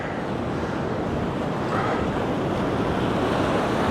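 Ocean waves surge against a coastal rock face near a cave entrance, a loud continuous roar of surf mixed with wind buffeting the microphone.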